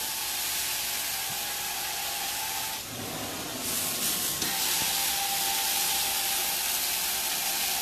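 A DangPro 3 carpet cleaning wand steams a carpet in a daycare center, giving a continuous loud hiss and spray that dips briefly midway, then resumes steadily without talk.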